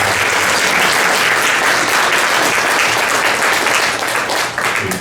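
Sustained audience applause fills a hall at a 2024 Southern Oregon candidate forum, dense and loud, with steady clapping from many hands throughout.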